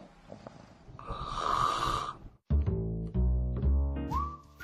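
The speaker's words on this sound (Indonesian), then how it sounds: "Pernah mendengar orang mendengkur ketika tidur?" A sleeping person gives one long, rasping snore with a whistling edge. Louder tonal musical sounds follow after a brief gap.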